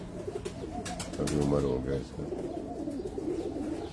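An old Sialkoti pigeon on a rooftop loft in Abu Dhabi gives soft repeated throaty coos, nearby and partly under someone talking.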